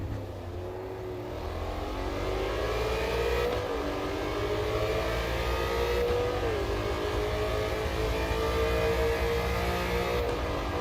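Race car engines in the Automobilista 2 sim racing game, a sustained droning roar with several overlapping engine tones shifting pitch as cars run alongside, reverberating off a pit wall, steady and loud throughout.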